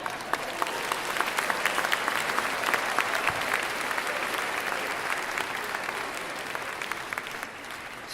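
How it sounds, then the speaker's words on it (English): An audience at a high school honor choir concert applauds steadily, a dense sustained wash of clapping from a large crowd that tapers slightly at the end. "We should applaud that"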